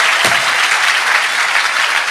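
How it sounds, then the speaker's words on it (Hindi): A church congregation claps loudly together, producing a dense, steady wash of applause that fills the whole moment, with no voices over it. "जितनों को समझ आया जोर से ताली बजाएं"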